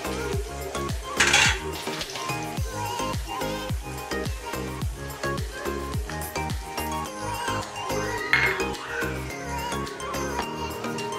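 Fried cashews are stir-fried with cashew curry mix masala, a utensil scraping and clinking rhythmically against the pan over a soft sizzle, continuous and close.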